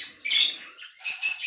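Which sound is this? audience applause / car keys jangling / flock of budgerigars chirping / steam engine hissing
flock of budgerigars chirping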